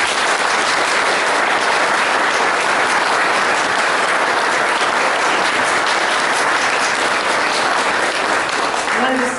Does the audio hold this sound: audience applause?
yes